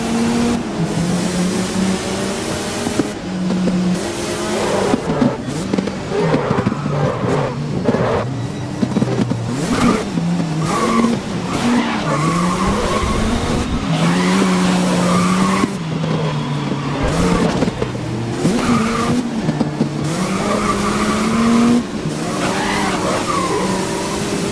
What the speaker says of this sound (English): Long race here.